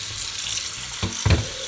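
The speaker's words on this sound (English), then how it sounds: "run some cold water over it." Cold tap water runs over strained saltfish in a Jamaican home kitchen sink, a steady close rush of flow with two brief louder splashes near the end, no talking.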